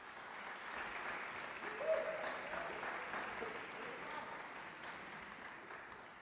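Steady audience applause for vocal competition candidates at the opening ceremony of an international voice competition, moderately distant and sustained evenly throughout without any voices.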